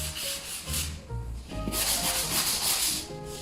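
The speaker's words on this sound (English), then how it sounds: "we're going to use some sandpaper to smooth out any rough edges" Sandpaper rubbed by hand over dried joint compound on a patched plaster wall around a light switch, a loud, close, continuous gritty scraping in back-and-forth strokes.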